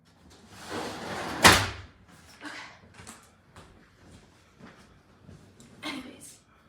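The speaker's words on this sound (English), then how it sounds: "So I gotta close the door." A single sharp door slam stands out near the start, followed by quieter shuffling sounds and faint, intermittent noises in the room.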